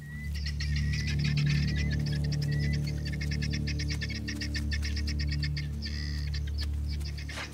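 A flock of helmeted guineafowl keeps up a dense, continuous chatter of harsh, rapid clicking calls over a steady low rumble of outdoor ambience in African bush, with no voices.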